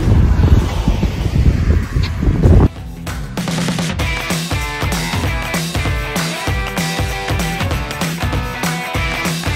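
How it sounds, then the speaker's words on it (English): Wind buffets a microphone outdoors during a family walk, a loud rumbling gust for the first couple of seconds before other, more rhythmic sounds take over. "It's so windy out here."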